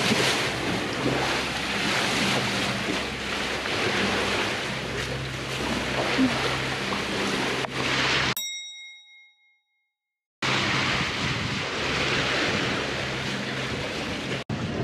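Ocean waves and wind roar steadily around a sailboat beating upwind in rough seas, a continuous loud wash broken by a sudden dropout of silence and a metallic ding before the surge returns.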